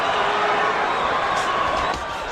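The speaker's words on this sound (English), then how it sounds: "crowd is chanting, Oscar, Oscar, Oscar." A boxing arena crowd in a dense, loud, continuous roar of cheering and chanting at a De La Hoya–Hopkins fight, with no pauses.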